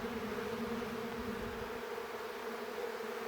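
A dense swarm of bees drones steadily around an open beehive during beekeeping, a continuous close buzzing with a low rumble underneath that thins out partway through.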